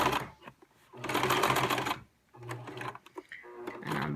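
A sewing machine stitches a fabric storage case, running in two bursts with a short pause between them, loud and close, with a few handling clicks in the gaps.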